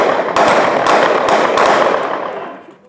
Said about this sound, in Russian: Такого взрыва испугались даже люди